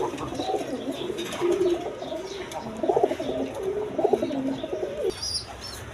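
Red gola pigeons coo in steady overlapping rolls at close range, a loft of several birds murmuring continuously with louder bursts, no voices present.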